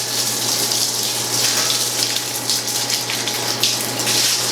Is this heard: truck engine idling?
no